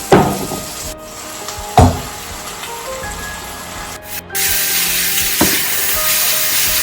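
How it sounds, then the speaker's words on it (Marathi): Chopped onion fries in a pan with a steady sizzle that grows fuller partway through, punctuated by a few sharp knocks of a utensil against the pan. "मी थोडासा कांदा तळतीये"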